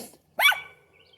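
Sharp, loud single gobble-like call from a farmyard bird or dog, a brief near burst after silence that trails off into quiet with faint background sound.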